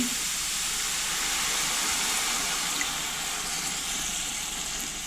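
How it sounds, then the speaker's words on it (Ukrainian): Water is poured into a hot pan of frying onions and finely grated carrot, giving a steady, even hiss and sizzle that holds at moderate level throughout. "Коли морква з цибулею обсмажилися, додаю трішки води"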